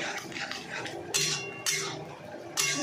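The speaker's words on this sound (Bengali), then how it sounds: "দিয়ে এটাকে ভালো করে মেশাতে হবে" A spoon clinks and scrapes against a pan while curd is mixed into spice masala for a paneer gravy. A few sharp metallic taps ring out over a soft, quiet background.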